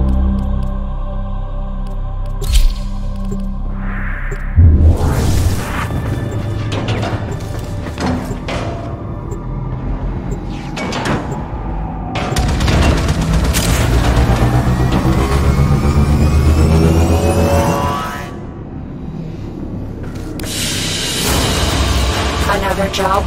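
Missile impacts rumbling through a space battle in Warframe Railjack, with booming hits and sweeping engine drones layered into a dense, continuous roar, and a voice speaking at times.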